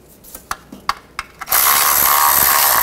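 A ratchet tightens the front engine mount bolts on a 2009-17 Chevy Traverse: a handful of sharp, close clicks in an uneven rhythm, then an abrupt, steady, loud whirring noise that fills the rest.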